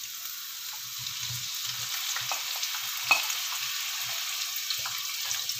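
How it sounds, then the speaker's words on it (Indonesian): Bitter melon sizzles steadily in hot oil in a pan, a continuous frying hiss with soft stirring scrapes and one brief clink, heard alone and fairly close. "Sekarang aku goreng dulu sebentar si parenya ya."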